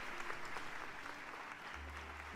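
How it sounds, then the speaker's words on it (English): A steady round of applause, dense clapping throughout at an even level, with no talk. "You always get a round of applause from me."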